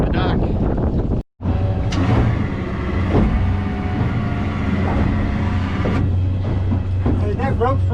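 A Stabicraft 2050 Supercab boat motors through rough water, its engine a steady loud drone with wind buffeting and hull slaps, briefly cutting out for a moment near the start.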